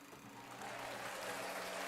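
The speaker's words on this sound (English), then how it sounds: "We got the claps" Applause from a crowd, a soft, steady wash of clapping that swells slightly and sits at a distance, fairly faint and with no talking.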